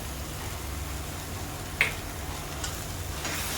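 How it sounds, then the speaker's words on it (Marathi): Onion, garlic, black masala, turmeric and red chilli powder fry in hot oil with a steady, even sizzle, broken by a sharp scrape of stirring partway through and a fainter one later. "हे सगळं आपण तेलामध्ये फ्राय करून घेणार."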